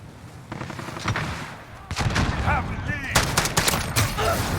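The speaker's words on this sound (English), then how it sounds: "We're getting shot at." Gunfire in a first-person shooter game with a single-fire FAL rifle, sharp cracks and rapid bursts of shots, some near and loud, others more distant, over a steady game background with voices talking.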